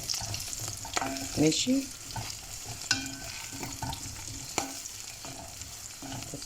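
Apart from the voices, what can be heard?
stirring pasta with oil in a pan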